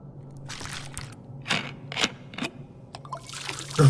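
Water is poured out in several short, splashing bursts with pauses between them, heard close up.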